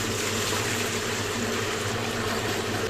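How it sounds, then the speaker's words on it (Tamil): Water poured from a pot into a vessel on a gas stove for cooking rice porridge, a steady, close, continuous gushing wash that fills the whole stretch without pause. "1 குடம் தண்ணி ஊற்றிக்கலாம்."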